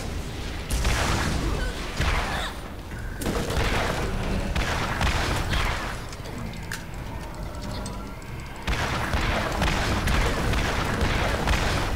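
Rocket launcher fire in Borderlands booms loudly and continuously through dense combat, with blasts and explosions layered in heavy bursts and brief lulls, close and intense.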